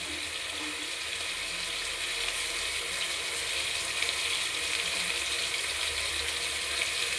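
Brinjal and onion for vangibath sizzle and fry steadily in a pan, a continuous hissing crackle at moderate loudness with no talking.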